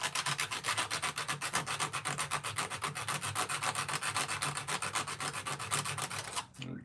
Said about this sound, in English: And all I do is just sand this area out, kind of round it, so it's not sharp against the skin.